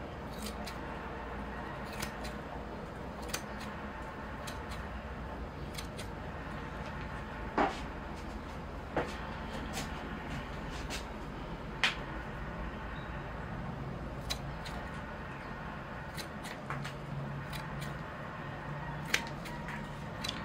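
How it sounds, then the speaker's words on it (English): Blue scissors snip the new growth of a Northern bog forest bonsai, giving scattered sharp clicks at irregular intervals over a steady low background hiss, close by and fairly quiet, with no talking. "the reason I use the blue scissors is it gets that conical shape established"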